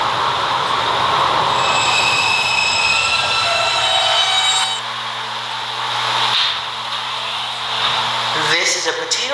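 A B train on a subway line running on rails: a loud, sustained rumble and hiss with high wheel squeal. Near the end a recorded voice announcement is heard.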